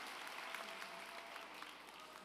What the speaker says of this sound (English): and all our deans, including Mr. Wilton, give them a round of applause.